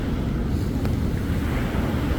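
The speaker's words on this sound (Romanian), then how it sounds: "Sunt valuri mari, văd aici." Big Indian Ocean waves break on a Bali beach in a continuous loud roar of surf, mixed with heavy wind buffeting the microphone.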